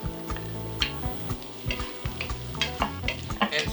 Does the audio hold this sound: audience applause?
no